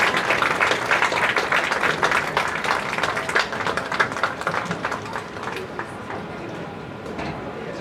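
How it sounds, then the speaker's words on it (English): Crowd at a high school football game applauding the seniors: a dense, steady wash of many hands clapping close by, tapering slightly toward the end. "if we could give them one last round of applause"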